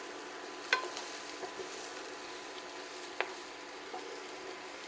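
Mushrooms saute in a little oil in a pan for chicken marsala, an even, close hiss of frying broken by a couple of sharp clicks from utensils.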